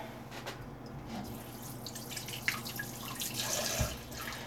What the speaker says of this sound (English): Oh, I need to rinse them again.